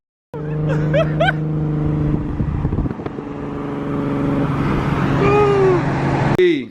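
A naturally aspirated Nissan 350Z engine catches and idles with a steady drone, then climbs in a couple of rising revs toward the end, loud and close with some background noise.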